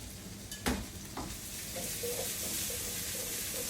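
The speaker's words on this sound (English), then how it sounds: "now you can cook the garlic out on those potatoes" Garlic and potatoes frying in oil in a pan, a soft continuous sizzle with a couple of sharp utensil knocks near the start and faint scraping stirs afterward, no talking.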